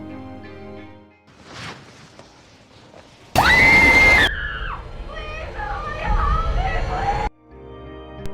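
A girl lets out a sudden, loud, piercing scream lasting about a second, amid eerie background sounds and other shrill cries.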